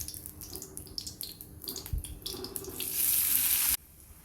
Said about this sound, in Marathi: आपली भाजी अशी छान परतून घेतली आपण तेलामध्ये